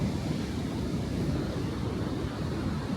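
Ocean surf at Carmel Beach, California, a white-sand beach with foamy waves, makes a steady broadband roar of breaking water mixed with wind. The sound is continuous and fairly close, with no voices.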